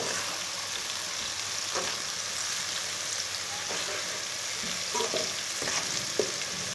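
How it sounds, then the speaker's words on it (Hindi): Chopped garlic and onion fry in a pan over medium heat, a steady close sizzle with occasional stirring clicks throughout and no talking. "लहसुन और प्याज को 3 मिनट तक पका लेंगे।"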